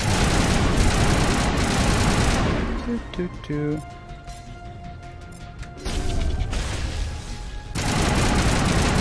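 Dense, loud gunfire fills a Mass Effect 1 Legendary Edition firefight, dropping briefly to a lull with electronic tones before bursts of shooting resume at full intensity.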